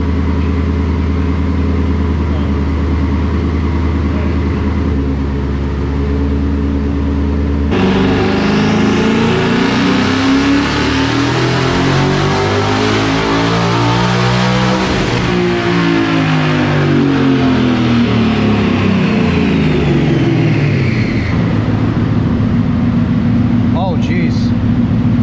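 A twin-turbo 2019 Mustang GT on a dyno idles with a low drone, then roars into a long, loud full-throttle pull whose pitch climbs steadily before the revs drop back to idle near the end.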